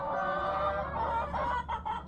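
Chickens inside a coop cluck and murmur in a close, busy chorus, with overlapping throaty calls and some low background rumble.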